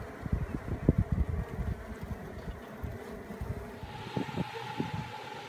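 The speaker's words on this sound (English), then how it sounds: "Okay, so there's quite a few bees in here still." Honey bees buzz inside a sick hive under inspection, a steady close insect drone with scattered thumps and handling noises from working the frames, continuing with no talk.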